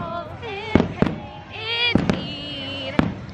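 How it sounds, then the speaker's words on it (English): Sharp fireworks bangs at a Halloween party night at a theme park, four or five distinct near blasts spaced irregularly over a few seconds, heard among crowd chatter and tonal background sound. "Ooh, I like the smell of fireworks."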